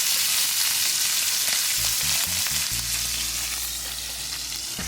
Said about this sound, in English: So cooking some bacon on the charcoal grill.